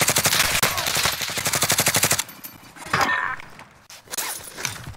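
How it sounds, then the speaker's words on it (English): Rapid automatic gunfire from the video game Warzone, a loud close burst of evenly spaced shots that stops abruptly, followed by quieter scattered impacts and movement sounds. "Contact, front! Down one. Receiving hostile fire."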